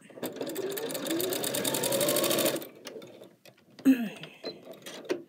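A sewing machine stitches a quilt binding on the diagonal, running fast and steady up close for about two and a half seconds before stopping, after which a voice speaks briefly.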